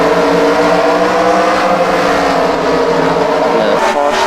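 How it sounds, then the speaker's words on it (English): Race trucks roar off the line at the start of a race, a loud, dense, sustained engine drone from the whole pack, close and continuous, with no voices. "here they go, and Gary Owen gets a bad start"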